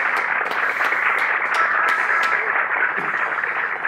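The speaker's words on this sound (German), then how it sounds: "Applaus! Ein erster Battle-Rap!" Audience applause after a battle rap on a late-night TV show: a steady, dense wash of clapping that fills the whole stretch at even loudness, with a few sharper claps standing out early on.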